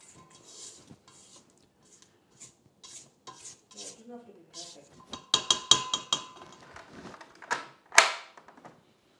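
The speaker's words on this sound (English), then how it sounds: "I need to scrape the sides of the bowl" A spatula scrapes around the sides of a Heichkell 1400-watt stand mixer bowl, giving intermittent scraping and clinking that builds into louder knocks and scrapes toward the end, with no motor running.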